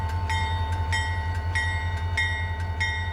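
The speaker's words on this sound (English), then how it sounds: "hearing that engine throttle up" A freight locomotive on the Central Indiana & Western short-line switching railroad throttles up near a grade crossing, its loud diesel engine throbbing in a steady low pulse with regular rhythmic ticks and clanks repeating about every half second.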